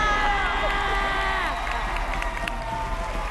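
A television concert audience cheers and shouts over applause, producing a loud, busy crowd roar with whistles and raised voices throughout.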